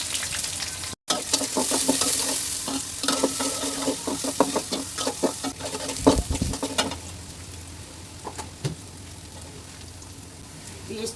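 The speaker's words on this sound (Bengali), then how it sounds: "এটার মধ্যে তেল দিয়া দিছি, তেলও গরম হয়ে গেছে। আমি দিয়ে দেবো পেঁয়াজ" Chopped onion and green chili hit hot oil in a pan and sizzle loudly, with stirring clatter over a steady frying hiss that settles down toward the end.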